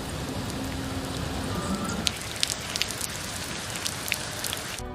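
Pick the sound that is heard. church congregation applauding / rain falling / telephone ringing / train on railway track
rain falling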